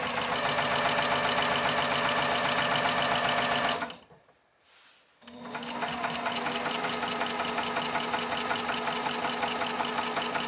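A sewing machine stitches a quilt block in a fast, steady mechanical whirr, stops briefly for about a second, then starts again and runs on evenly, close and clear with no talking.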